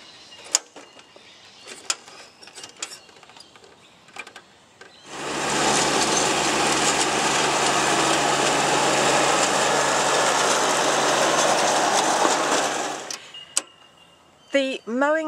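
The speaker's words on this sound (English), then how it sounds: "as the tractor mows." A tractor mowing grass runs as a loud, steady mechanical drone with a high whine, starting abruptly after scattered speech-like sounds and holding for about eight seconds before cutting out, with brief talk around it.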